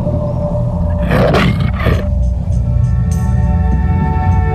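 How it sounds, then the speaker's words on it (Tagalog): A tiger lets out a deep, rough roar in two close bursts over a steady low background rumble, then the sound settles back into quiet ambience. "Ayan na nga, ang tigre."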